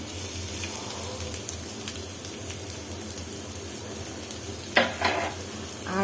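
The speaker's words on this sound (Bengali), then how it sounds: "এটাকে আবারও নেড়ে চেড়ে ভেজে নিব পেঁয়াজটা" Chopped onions fry in mustard oil, a constant close sizzle with a spatula stirring and scraping, a sharper burst of clatter near the end, no voices.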